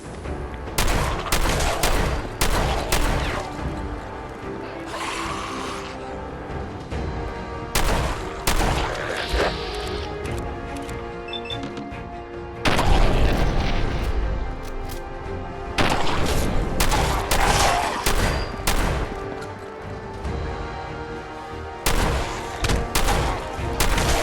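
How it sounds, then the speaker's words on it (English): Combat shotgun blasts aimed at a legendary feral ghoul in the Fallout 4 video game. Loud, heavy booms come in quick clusters, with short gaps between bursts and no talk over them. "I'm gonna use my trusty combat shotgun for this one."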